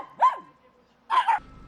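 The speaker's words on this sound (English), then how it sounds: "150 dogs and pups of all different breeds were brought here to Westchester" Dogs and pups of assorted breeds barking at an animal rescue adoption event in Westchester, two loud, close bark bursts separated by a short pause, the second a quick double bark.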